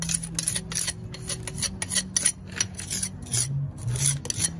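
A jointer trowel strikes fresh mortar joints in a brick garden wall being rebuilt, making repeated close, raspy scraping strokes in a steady working rhythm.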